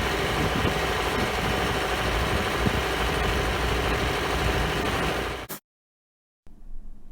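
Construction machines buzz with a loud, steady, dense drone for about five seconds, stop abruptly into silence, then return faintly at the end; no one speaks.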